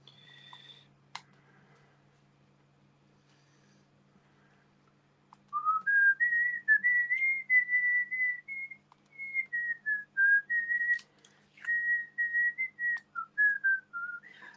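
A person whistles a bright, wavering tune from A Bug's Life, clear and close, in short phrases, with faint clicks and taps from diamond painting work before it begins.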